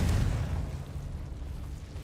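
A Confringo blasting spell explodes in Hogwarts Legacy with a deep, rumbling boom that is strongest at the start and then fades into a low, lingering roar.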